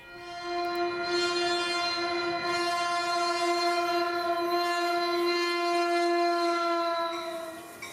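A Caltrain passenger train sits at a Stanford-area station on a clear summer day, giving off a steady, fairly loud tonal hum or horn-like drone that holds for about eight seconds with no one talking.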